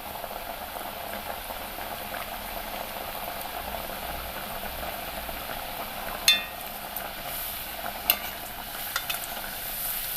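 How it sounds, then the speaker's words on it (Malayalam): Lentil fritters deep-frying in oil on a low flame give a soft, steady bubbling hiss, with a few light clinks and turning sounds toward the end. "തീ കുറച്ച് വെച്ച് തന്നെ ഇത് വറുത്തെടുക്കണം"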